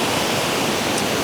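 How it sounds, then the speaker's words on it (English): Kings House waterfall flows on a very wet day, giving a dense, constant rushing roar of falling water, close and steady throughout. "you can see the waterfall here"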